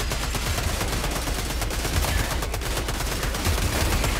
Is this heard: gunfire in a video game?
yes